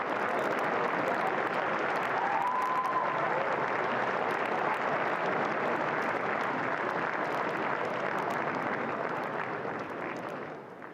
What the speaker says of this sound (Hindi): तालियों की गड़गड़ाहट से स्वागत करें।